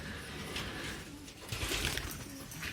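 Elvan pigeons give soft, low cooing calls amid rustling and handling noise as they are brought out, faint and close over a short stretch.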